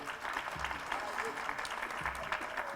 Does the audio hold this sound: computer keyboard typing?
no